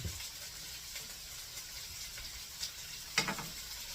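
Potatoes and onions for cowboy stew fry in a pan with a steady soft sizzle, a few stirring scrapes and clacks near the end.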